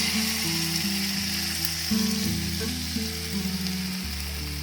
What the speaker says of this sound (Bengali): ব্যাটারটা দেওয়ার পর এটাকে আবারও আমি তেলের মধ্যে এইভাবে দিয়ে দেব